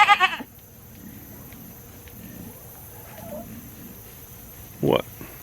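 A wether goat bleats in two short bursts, one at the very start and another near the end, with quiet ambience and faint background sounds in between.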